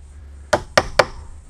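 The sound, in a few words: chisel tapping into hollow wooden door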